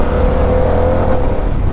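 A 2026 Harley-Davidson motorcycle engine rumbles with a low, torquey revving drone and intake sound, loud and close over a short continuous stretch.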